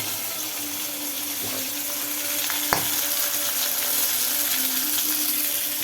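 Steady, close sizzling of food frying in a pan, with a single sharp clink partway through and no talking.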